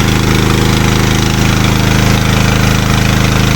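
Dnipro-M GX-70E generator engine with a dual-fuel carburetor running loud and steady at raised speed, a dense continuous rumble with a fast, regular firing pulse throughout.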